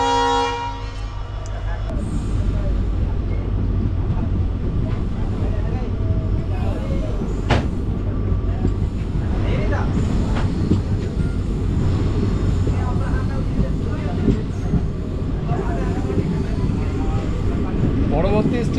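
A local train on the Kolkata–Darjeeling route rolls along steadily and loudly, its horn tooting briefly at the start over the constant rumble and clatter of the carriages.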